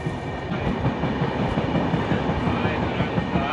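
The Korba Visakhapatnam Express rolls along the rails at moderate speed while accelerating past a signal, a steady rumble with rhythmic clickety-clack of wheels over rail joints heard from on board, with a faint voice in the background.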